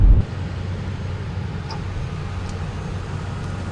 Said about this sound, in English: I'm driving through about an inch of slush